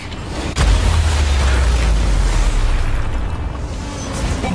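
The Quake shockwave weapon goes off in the WipEout Omega Collection racing game: a sudden loud boom after a brief quiet lead-in, then a heavy, sustained rumbling roar that stays strong to the end.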